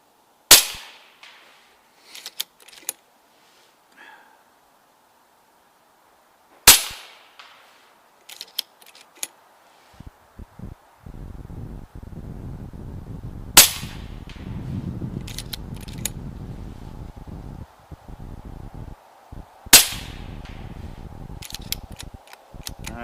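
Four sharp, loud rifle shots from an RTI Prophet II .30 caliber rifle fired at a 100-yard range, spaced roughly six to seven seconds apart, with small clicks and handling noises between them and a steady outdoor hiss in the later part.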